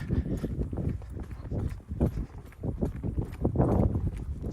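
Horse hooves clip-clop steadily at a walk on a cold ranch day while riders move cattle on horseback, one of them on a colt. The hoofbeats are close and continuous.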